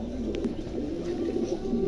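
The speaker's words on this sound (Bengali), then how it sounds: "দেখেন চমৎকার একটা কবুতর" A Bukhara pigeon, a large fancy breed with crested wing feathers, coos in a low continuous murmur close by, with steady background noise.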